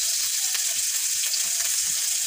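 Oil poured onto onions frying in a pan for a dried fish curry, giving a steady, loud, close sizzle that holds evenly throughout.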